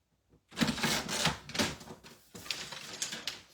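A paper trimmer cuts cardstock for a handmade card. Close, quiet sliding scrapes and clicks come in short bursts, and there is a brief pause in the middle.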